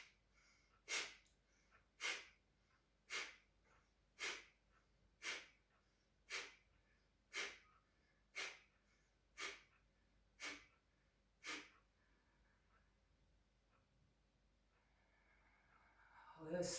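Kapalabhati yoga breathing done seated on a chair: a series of about eleven sharp, forceful nasal exhalations at a steady rhythm, close and clear, followed by a quieter pause and a final longer breath.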